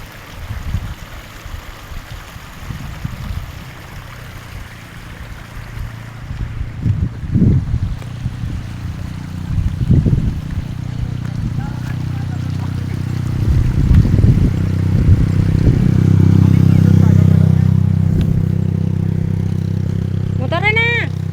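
Boat motor running out on the water, a low droning hum that grows louder toward the end, with wind noise and people talking over it.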